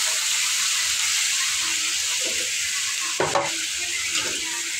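Chicken gizzards sauté in a pan under a constant close sizzle, with occasional scraping strokes of stirring and a brief clatter of utensil on metal midway.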